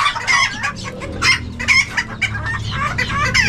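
Young chickens at an outdoor pet market in Bocaue cluck and chirp repeatedly in short, uneven bursts close by, with several birds overlapping over a low background murmur.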